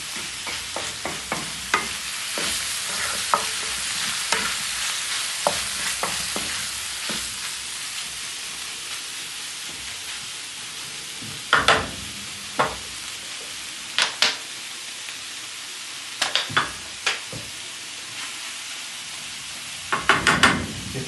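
Vegetables fry on a sac kavurma pan for meat and fish in a Trabzon village, a steady broadband sizzle under repeated scraping stirs that grow sharper and clustered toward the end, with no voices.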